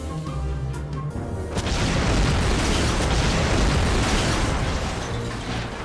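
An explosion in the video game Mafia bursts into a loud, sustained roaring blast that rumbles on for several seconds after a quieter lead-in.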